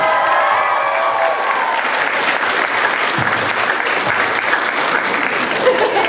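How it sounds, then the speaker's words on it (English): A convention audience at a Baldur's Gate panel at RetroGameCon 2024 claps loudly and steadily for the full stretch, a dense wash of applause with no pauses. "Give a round of applause."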